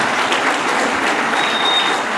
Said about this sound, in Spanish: Un aplauso a los hermanos, que Dios les bendiga.